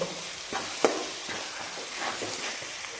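Pav bhaji spice mix with chilli powder, mutton masala and salt sautéed in a pan, giving a faint sizzle under soft scraping stirs and a few light spoon taps, close and quiet.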